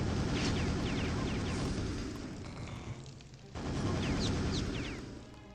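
Multi-rocket launcher explosions in Quake's Dissolution of Eternity mission pack: dense, loud booming blasts roll together into a sustained rumble, fade briefly near the middle, then surge again in a second burst.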